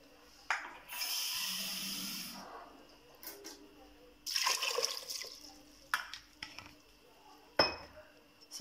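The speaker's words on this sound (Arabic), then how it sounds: "نديرو واحد لتر ديال الماء،" Water poured into a cooking pot, about a litre, in splashing bursts mixed with clinks of the pot and utensils, fairly close and moderately quiet.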